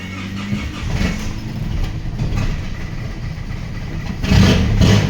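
A car engine rumbles nearby at a low idle, then swells noticeably louder near the end as it revs.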